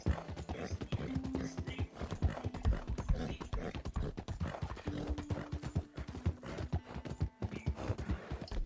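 Horse hooves clip-clop steadily in a video game, a brisk rhythmic stream of close hoofbeats running throughout with faint background tones and a voice now and then.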